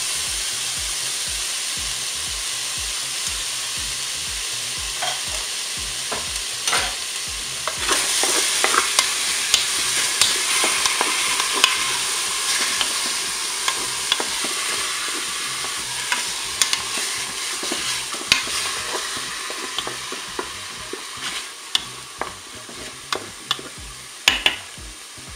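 Onions frying in a Cookeo electric multicooker pot, a constant hissing sizzle punctuated by rhythmic spoon clicks and scrapes as they are stirred, close up and without talk.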